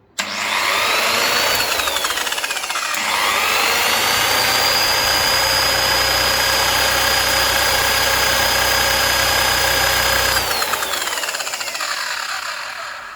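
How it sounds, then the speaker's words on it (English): A Khadija car polisher switched on and run, with a loud, steady motor whir and a high whine that ramps up at start, holds constant near the microphone, then shifts pitch as the speed changes. "switch on this car polisher along with its accessories, and let me see how this one operates when I switch it on"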